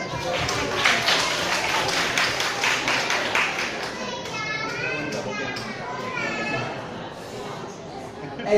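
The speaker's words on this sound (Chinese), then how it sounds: "我们再掌声谢谢他们" An audience claps for performers at a church Christmas party, steady mixed applause and chattering children filling the hall, followed by a host speaking over the fading clapping.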